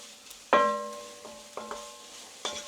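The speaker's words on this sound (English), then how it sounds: "Give this stir around." A spoon knocks against a pot while sweetcorn and leek soup is stirred, one bright ringing clank followed by several softer taps and scrapes, close and without talk.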